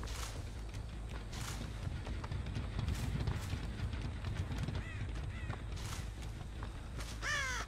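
Crows caw repeatedly inside the horror game Dead by Daylight, rising as several sharp calls near the end over a steady ambient game rumble.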